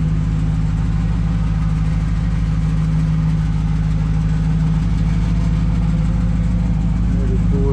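A 1999 Chevrolet Camaro Z28 SS convertible in Hugger orange idles with a steady, deep, droning exhaust rumble that stays loud and even throughout, with a faint rise near the end.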